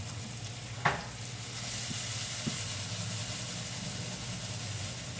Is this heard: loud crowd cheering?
no